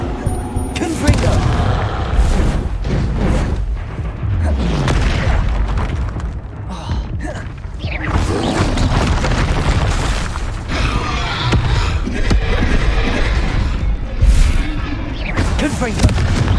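Blasting-spell explosions in Hogwarts Legacy erupt as loud, repeated booming blasts amid dense battle noise and heavy low rumble, under frequent shouted speech from a player.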